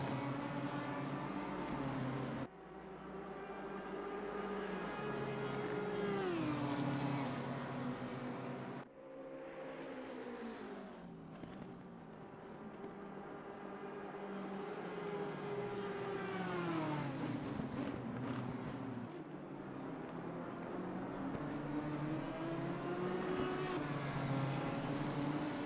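BMW and Audi GT race cars in Assetto Corsa Competizione at Mount Panorama, engines droning and shifting pitch steadily with rising and falling revs, loud and continuous throughout.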